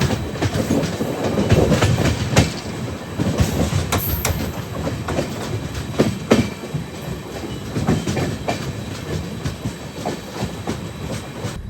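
An Amrit Bharat Express train runs on the rails between Hyderabad and Kerala, with steady rumble and rhythmic clickety-clack of wheels over rail joints heard from inside a carriage, loud and continuous throughout.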